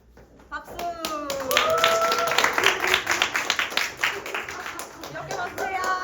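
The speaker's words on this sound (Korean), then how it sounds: "박수." Hands clap in a lively, uneven burst of several people, close and fairly loud, starting after a short pause and continuing with rhythmic claps while voices and children chatter and call out over it.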